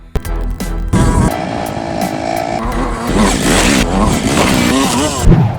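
A Lifan KPR 200 motorcycle ridden over rough, potholed roads, its engine droning loudly and close with rising and falling revs, rattles and bumps mixed into steady road and wind noise.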